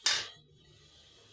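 A metal lid set down on a cooking pot of pangas fish curry with potatoes makes a single sharp clink, followed by a faint ringing and quiet simmering background.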